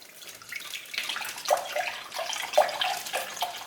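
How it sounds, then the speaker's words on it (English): About two cups of wine are poured over fruit set to soak for Jamaican fruit cake, making a soft, continuous trickling and splashing that swells in uneven waves, quiet and close. "So I'm going to put another half a liter. That's about 2 cups of the wine."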